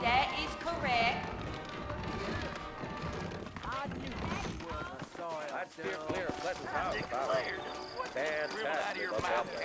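Saddled horses clip-clopping in the Red Dead Redemption video game, set in New Orleans, a steady run of hoofbeats heard under continuous talking and background score.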